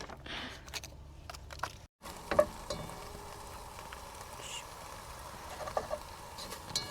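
Chicken sizzles in a pan on a camp stove at a beach campsite, a faint, steady crackle heard close by with occasional small clinks and stirring noises.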